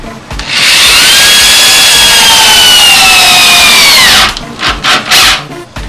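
Close and loud, a power drill drives a screw into soft pressure-treated wood, a sustained whirring grind with a falling pitch for about four seconds, then a few short bursts as it finishes.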